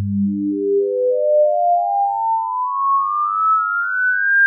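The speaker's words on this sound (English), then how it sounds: "For example, if the first one is 100 hertz frequency," Pure electronic tones climb smoothly through a harmonic series built on a 100 hertz fundamental, starting low and strong and rising into ever closer-spaced higher pitches, loud and alone.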